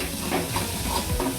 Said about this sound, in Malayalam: നമുക്കിങ്ങനെ ഇളക്കിക്കൊണ്ടിരിക്കണം